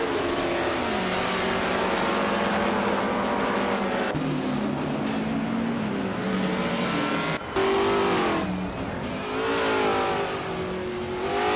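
Racing cars battling side by side, loud engines roaring and revving close by, pitch rising and falling with gear changes and overlapping engine notes, a brief dip midway before the roar resumes.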